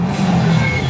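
A race car at a slalom race in Agon-Coutainville roars past close by, its engine note loud and sustained across the whole moment.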